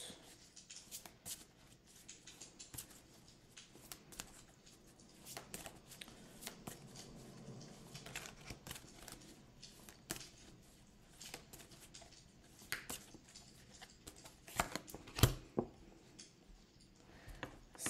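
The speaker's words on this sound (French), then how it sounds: "Ça, on va passer les cartes." A deck of tarot cards shuffled by hand, soft papery riffles and taps repeating quietly and close by for the whole stretch, with no talking.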